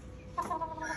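Chickens clucking on a farm, a brief, faint burst of close clucking calls over quiet background, with no talk.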